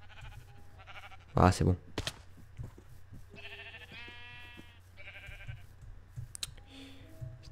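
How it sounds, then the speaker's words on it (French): Bleating from a sheep in the game Minecraft, a few short nasal bleats in the middle amid game clicks and sound effects, with someone speaking briefly over it. "Ta gueule, le mouton."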